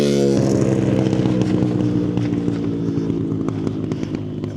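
A vehicle speeds past on the Fort Benning army post, a loud close engine whine that starts strong and steadily fades as it pulls away, with no talk.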